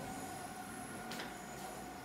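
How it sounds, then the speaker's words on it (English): A passing train heard from a home near the rail line, a faint, steady rushing rumble with a brief swell in the middle, and no talking. "You can see the train"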